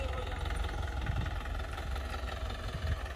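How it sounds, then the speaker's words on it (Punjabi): A home-built tractor's engine runs in second gear with a steady low, pulsing throb, moderately close and continuous throughout. "ਦੋਸਤੋ ਦੂਜੇ ਗੇਅਰ ਦੇ ਵਿੱਚ ਚੱਲ ਰਿਹਾ ਟਰੈਕਟਰ"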